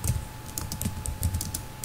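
Typing on a computer keyboard, a steady run of light, close keystroke clicks at an uneven pace, faint over a low background hum.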